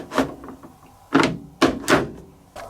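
The door of a Hotpoint Ultima TC72 condenser tumble dryer is handled and shut, giving several close, loud thunks spread over a few seconds.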